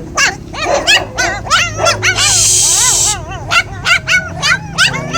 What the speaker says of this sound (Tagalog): Ayan na sila. Tahol na ng tahol.